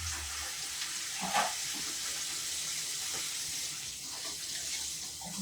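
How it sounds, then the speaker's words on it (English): Hands being washed under a running kitchen tap, a steady broadband rush of water with small splashy shifts as the hands move, close and even throughout, without speech. "So let me just quickly wash my hands."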